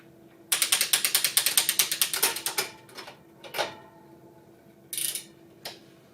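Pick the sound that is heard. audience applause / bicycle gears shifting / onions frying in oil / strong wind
bicycle gears shifting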